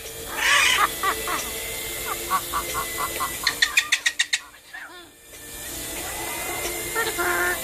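A pet parrot at a bathing session gives a rapid string of sharp, rhythmic chirping calls in the middle, surrounded by a person's voice and a constant hiss of spraying water.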